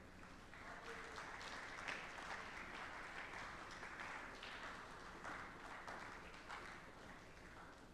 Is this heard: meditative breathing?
no